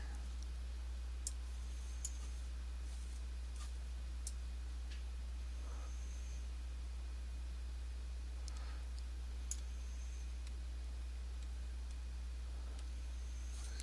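A computer mouse clicks sparsely in Weka data-mining software: a few faint, isolated clicks scattered over a steady low background hum.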